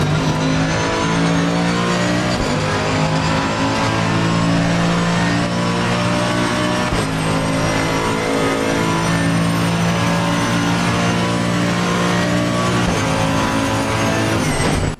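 Porsche race car engine in a single-player racing video game, loud sustained high-revving whine with gear shifts, surrounded by other cars on the grid, steady throughout without talk.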